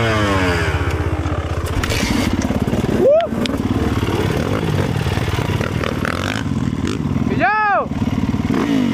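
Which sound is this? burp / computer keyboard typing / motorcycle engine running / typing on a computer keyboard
motorcycle engine running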